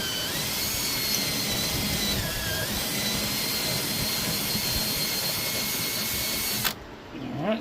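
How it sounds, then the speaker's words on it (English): A reamer bores out a bolt hole in the transom of an old jon boat, a loud steady whine held for several seconds before it cuts off abruptly, followed by a brief clatter. "I'm just going to give it just a little ream"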